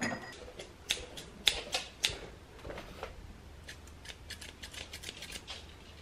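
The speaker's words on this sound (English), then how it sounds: "Scissors." Scissors snip through material during a camper van sub-floor template job, a series of quiet, sharp crisp cuts spaced irregularly at close range, the first few louder and the rest fainter.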